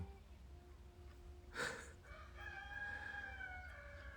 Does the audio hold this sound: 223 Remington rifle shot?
no